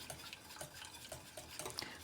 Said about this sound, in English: slowly whisking it in.